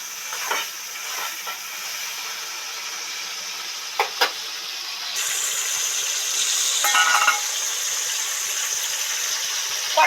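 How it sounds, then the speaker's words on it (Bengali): Ginger fries in hot oil in a kadai, giving a steady close hiss and sizzle that grows louder partway through, with a few sharp clicks scattered across it. "এই তো মোটামুটি আদা ভাজা হয়ে গেছে"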